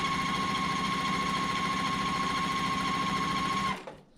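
A sewing machine stitches along a line on an orange and white quilt block, a loud, rapid, steady mechanical whirr that stops abruptly near the end.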